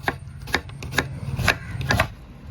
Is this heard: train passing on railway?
no